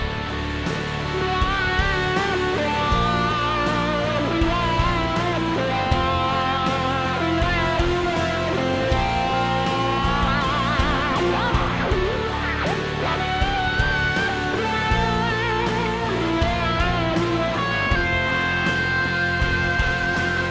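Electric guitar solo from a rock song, a lead line ringing out over a full band mix with drums, steady and loud throughout.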